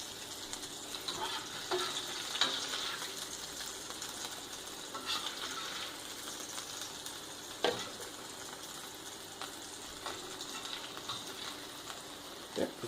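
Onions fry in a skillet alongside homemade fries, with a steady, soft, close sizzle and occasional clicks and scrapes of a utensil stirring.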